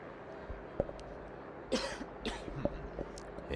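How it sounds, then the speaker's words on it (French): Two short, sharp coughs burst out close to the microphone, a few moments apart, over quiet background clicks and a low hum. "Excusez-moi. Petite toux, rien de bien grave."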